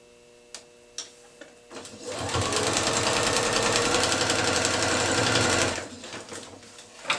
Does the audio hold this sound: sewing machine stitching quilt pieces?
yes